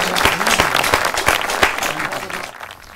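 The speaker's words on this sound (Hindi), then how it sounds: "एक बार सारा सदन अपने हाथों को खोले और जोरदार तालियों के साथ हम व्यास जी का स्वागत करें" A hall audience claps loudly to welcome a senior poet at a Hindi poetry gathering for World Laughter Day, a dense burst of many hands with some louder individual claps, fading toward the end.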